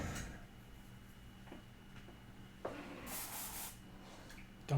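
An airbrush sprays window washer fluid while being cleaned between coats on Warhammer Warcry terrain, giving a faint, brief, high airy hiss that rises and fades over soft background noise.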